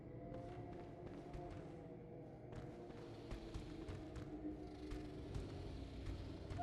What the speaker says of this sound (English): What's in here purring?